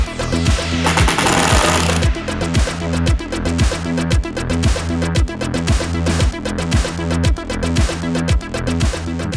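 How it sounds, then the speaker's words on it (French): An impact driver hammers out Torx 40 screws holding down panels on a van floor, a loud, continuous, rapid rattling impact close by. "Tout ça est solidement fixé avec des grosses vis en Torx 40. Donc pour ce faire, on va utiliser la visseuse à choc."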